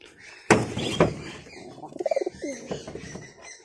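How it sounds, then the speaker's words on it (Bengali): Pigeons settling in home coops give a short burst of rolling coos after two sharp knocks, close by and fairly faint, with light rustling around them. "আজকে পায়রাগুলো সব ঢুকে গেছে যার যার খোপে শেষে।"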